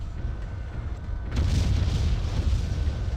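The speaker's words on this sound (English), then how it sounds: "So I use the AC-10 to take out these 2 turrets up here." A heavy AC-10 autocannon round blasts turrets in MechWarrior 3, a sudden booming impact that erupts after a quieter stretch of game ambience and rumbles on as a dense explosion tail.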